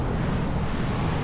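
Ocean waves surge in a steady, loud roar of surf, with wind buffeting the microphone throughout.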